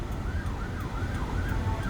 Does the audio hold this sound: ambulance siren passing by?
yes